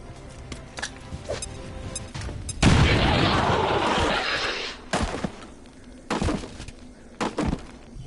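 A frag grenade going off in XCOM 2, a loud booming blast with a spray of debris that lasts about two seconds, among sharp gunfire-like game impacts before and after.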